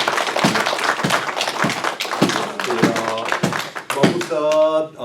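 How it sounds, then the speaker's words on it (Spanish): A church congregation applauds at a Sunday morning service, with a burst of steady clapping under a voice talking over it, and then a tonal sound at the close. "yo creo que merece verdaderamente un aplauso"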